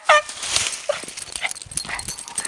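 A dog gives a sharp yelp followed by a few softer whimpering yips, close and fairly loud, during an encounter with a porcupine in a wooded mountain setting.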